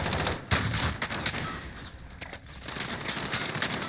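Call of Duty Warzone gunfire crackles in dense, overlapping bursts at close range, a continuous rattle of shots for a few seconds.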